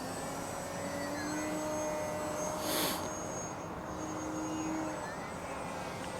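An E-flite Timber RC plane on floats flies fairly slowly overhead with flaps up, its electric motor a faint, steady distant whine that swells briefly midway.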